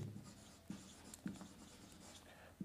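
Chalk or marker writing on a board during a maths lesson, faint scratchy strokes with a few sharper taps, quiet and close, in a hushed room.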